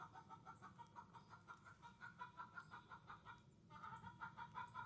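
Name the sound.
upset chicken clucking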